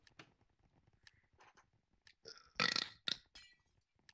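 A loud, raspy burp erupts during Minecraft Skywars play, one long belch followed by a shorter second burst, set among faint clicks and light background sounds.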